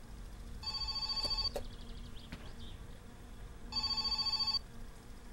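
Telephone ringing in the video game My Summer Car, two distinct electronic ring bursts a couple of seconds apart, fairly quiet over a low background hum.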